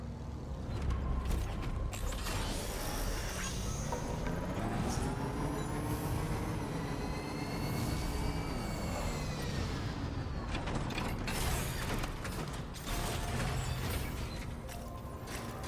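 A working monorail runs in a video game, a continuous mechanical creaking and grinding with rising and falling whines, steady and moderately loud throughout, with no talk.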